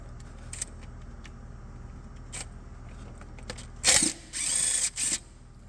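A 10mm bolt being removed from the fan pulley of a Cummins 6.7 diesel engine: faint ratchet clicks, then a loud close burst of ratcheting or power-tool whirring in short spurts near the end.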